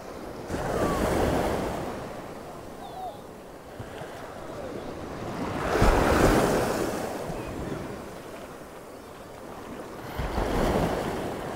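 Sea waves breaking on a beach at Waxham, Norfolk, three broad surges of surf swelling and fading in slow succession over wind noise close to the microphone.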